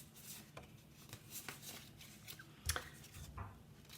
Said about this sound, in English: I've got some cards that I've been shuffling here.